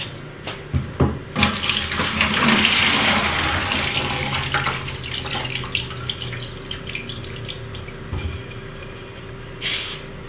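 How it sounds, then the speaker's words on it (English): Tap water runs steadily into a sink, splashing and gurgling close by, with a few clinks at the start and a brief surge near the end. "And then, with that water source again, whether it's the house tap"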